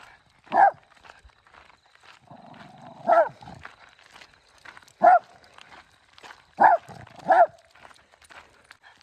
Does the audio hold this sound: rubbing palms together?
no